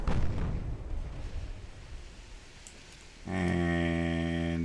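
Naval artillery fire in the warship game Ultimate Admiral Dreadnoughts, heavy booming blasts rolling out up front and fading into rumble, then a steady loud droning tone taking over near the end.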